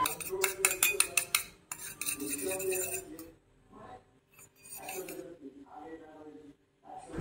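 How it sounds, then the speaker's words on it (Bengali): Metal utensil clinking and scraping against a bowl while chili sauce and tomato sauce are mixed together for a spicy Maggi masala noodle recipe, busy and rhythmic at first, then sparser scrapes with quiet gaps. "এবার এই 3টেকে একসঙ্গে মিক্স করে রাখবো"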